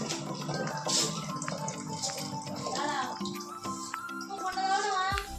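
Water pouring and splashing in a household setting, a steady running gush under a child's and adults' speech, with clattering and drips around it.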